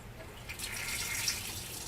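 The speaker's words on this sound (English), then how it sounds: "We'll turn the water on, divert the flow," Water from a tap feeding an Enagic SD501 water ionizer runs as a soft, steady hiss and trickle, fairly faint and alone.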